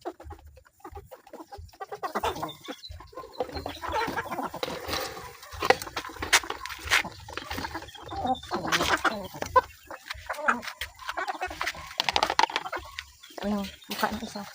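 Chickens clucking in a morning yard setting, repeated short clucks and squawks scattered across the scene while people talk and exclaim throughout.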